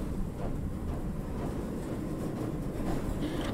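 A moving train in the video game Crab Game gives off a steady, low rumbling roar with a constant mechanical drone, heard alone at moderate level.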